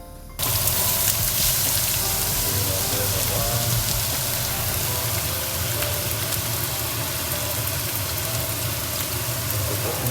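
Pork back fat melts in a hot pan with a steady, dense sizzle that starts abruptly and holds at an even level throughout, close and crackling with no voices over it.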